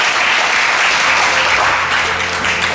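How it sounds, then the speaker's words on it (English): A church congregation claps hands in praise, a loud, dense and steady wash of applause that fills the whole moment without a break. "Give God a hand clap of praise for them."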